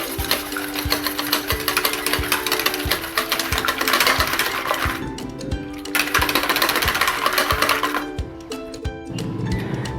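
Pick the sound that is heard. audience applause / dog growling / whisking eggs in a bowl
whisking eggs in a bowl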